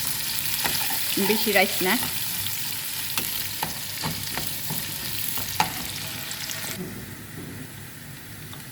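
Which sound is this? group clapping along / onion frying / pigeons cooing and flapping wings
onion frying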